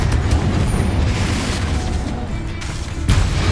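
In the video game Hogwarts Legacy, a Confringo spell explosion sets off a loud, heavy blast that rumbles on for several seconds, with a further boom near the end.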